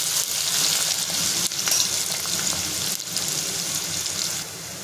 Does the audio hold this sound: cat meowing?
no